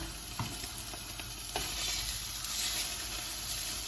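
Beef for tataki searing in a hot pan with sesame oil, a steady close sizzle with a few faint clicks and stirs.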